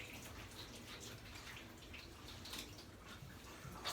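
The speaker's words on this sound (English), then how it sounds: "I'm just going to squeeze out" Water drips and trickles from a wet show poodle puppy's coat as it is squeezed out during a bath, a soft, steady splashing heard close up and alone.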